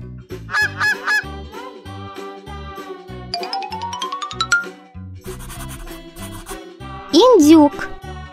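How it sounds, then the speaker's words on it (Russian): A goose gives a loud, nasal honk near the end, following bouncy children's cartoon music with chiming notes and a rising glissando. "Гусь."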